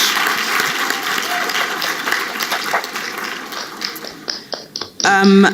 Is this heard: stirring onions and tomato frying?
no